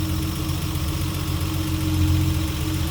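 A 1973 Triumph GT6 Mk III with dual Stromberg carburettors idles steadily nearby, a smooth, even engine rumble with a constant low throb and no voices.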